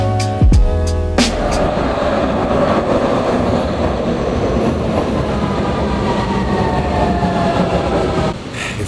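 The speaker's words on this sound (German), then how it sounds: "Wir fahren einfach U-Bahn." A Vienna U-Bahn subway train rolls along in a loud, steady rumble with rail clatter, opening with a few sharp clunks before settling into continuous running noise.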